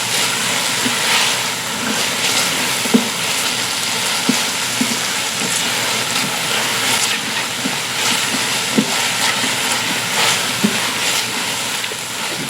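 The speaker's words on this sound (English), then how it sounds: "Saute that garlic just a little bit" Garlic sautéing on high heat in an Instant Pot RIO Wide gives off a steady, close hiss and sizzle, dotted with small pops and crackles throughout, with no voices.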